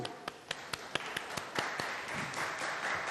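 Scattered applause in a studio during an iftar TV transmission: a handful of sharp, separate claps in a loose rhythm over a busy room background, then a softer, denser patter.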